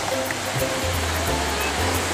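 Water is poured into the middle of wet sand while building a sandcastle, making a continuous rushing, gurgling splash over a low, uneven background rumble.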